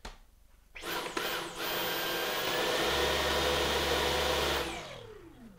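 A Dyson V11 Outsize cordless vacuum cleaner switches on and runs steadily at close range, its loud whirring motor whine holding level for several seconds before winding down near the end, with no talk over it.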